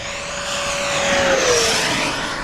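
Aerofoam Banana Hobby L-39 model jet with a 105mm electric ducted fan on 12s power, flying over a grass field, makes a steady rising whine with a pitch that drops as it passes by, no talk.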